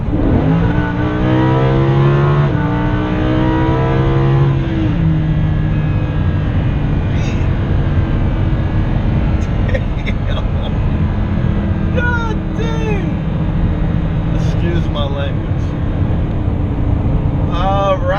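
A 2016 Lamborghini Huracan 580-2 accelerates hard from inside the car, its engine rising loudly through the revs and shifting gears in a series of climbing pulls. A steady road and wind roar runs under the engine, and brief speech can be heard.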